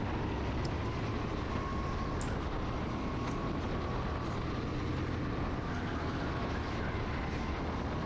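A racing go-kart drives around a track, its engine a continuous steady drone throughout with no pauses, heard from on board.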